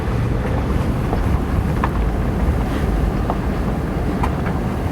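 Rushing water from a flooded creek after a tornado and flooding in Oklahoma, a constant loud broadband roar heard up close, mixed with wind buffeting the microphone.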